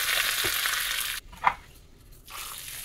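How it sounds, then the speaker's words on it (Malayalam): Steady crackling and sizzling of mustard seeds spluttering in hot coconut oil, briefly dropping away and then resuming, with a single louder pop in the middle. "വെളിച്ചെണ്ണ ചൂടായി കഴിയുമ്പോൾ അര ടീസ്പൂൺ കടുക് മൂപ്പിക്കാം"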